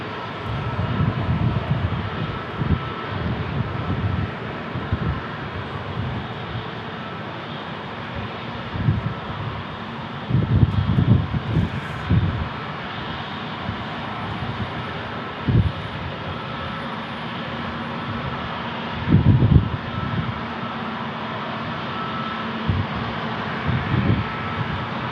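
An American Airlines jet departs San Diego International Airport bound for Phoenix, its engines a continuous distant roar that stays fairly even for about twenty-five seconds, with a few louder low bursts and no voices.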